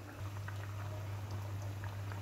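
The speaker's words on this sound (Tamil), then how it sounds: "ரசம் நல்லா கொதி வந்துட்டுருக்கு, இன்னும் கொஞ்சம் நேரம் கொதிக்கட்டும்." Ginger-lemon rasam boiling in a pot, a soft continuous bubbling and popping with a low steady hum beneath, close and quiet with no talk.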